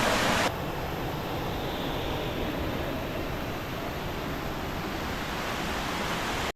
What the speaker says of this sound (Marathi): मस्तपैकी नदीला पाणी वाहत आहे.